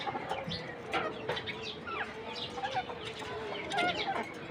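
Chickens, among them a Silkie hen, cluck steadily in a cage, with repeated close clucks and occasional soft wing flaps over a constant low background hum.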